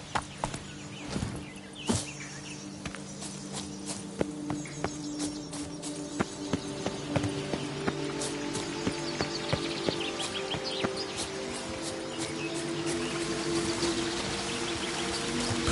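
Horse hooves clip-clop steadily along in The Witcher video game, a regular walking rhythm of fairly close hoof strikes with faint bird chirps in the background and no talking.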